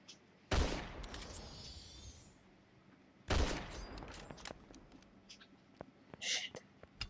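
Gunfire in a Fortnite battle royale match: two sharp bursts of shots a few seconds apart, each followed by scattered quieter pops and clatter, fairly faint overall with no talk.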